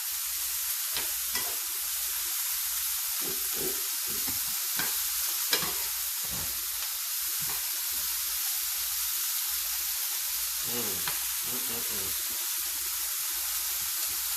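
Vegetables with hot pepper cooking in a hot pan give off a constant loud hiss and sizzle, broken by scraping stirs that scrape and thump at irregular intervals, close up, with no voices.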